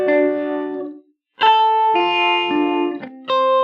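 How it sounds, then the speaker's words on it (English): A tonal instrument source is processed through a slapback echo stereo delay plugin, giving short phrases of sustained notes, each followed by a quick repeat that makes them sound wider and bigger. The notes come in bursts separated by brief gaps. "here we have a type slapback echo, but it makes the sound bigger of the audio source"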